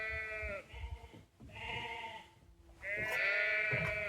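Sheep bleat close by on a farm: three drawn-out, wavering calls with short gaps between them and no talking.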